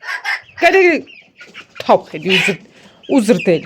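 Chickens cluck in short, bursty calls close by, mixed with a person talking over and between them.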